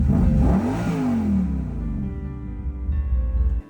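Engine of a 540 fitted with an Edelbrock VRS 4150 carburetor blips up loudly, the rumbling note rising then falling back to a lumpy idle, close by, with no talk.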